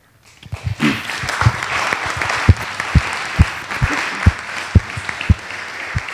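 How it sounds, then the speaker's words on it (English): Audience applause at a forum on tolerance and incarceration, a steady wash of many hands clapping with a few louder individual claps standing out near the front. "So, big applause to everyone."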